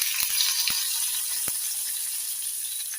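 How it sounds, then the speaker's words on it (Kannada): Hot tempering hits leftover rice being made into curd rice, giving a steady bright sizzle and hiss with a few sharp clicks early on, close by and with no talking. "ಒಂದು ಒಗ್ಗರಣೆ ಆಯಿತು, ಅದಕ್ಕೆ ಹಾಕ್ತಾ ಇದ್ದೇನೆ."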